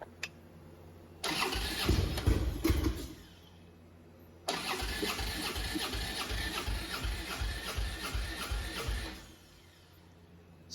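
A Harley-Davidson Road King motorcycle engine turns over in two long cranking bursts separated by a pause, a steady rhythmic churning that never catches into a running engine.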